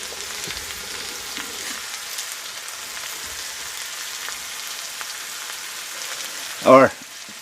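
Brussels sprouts fry in a pan at a camp, giving a soft, steady sizzle throughout with a brief louder clatter or scrape near the end.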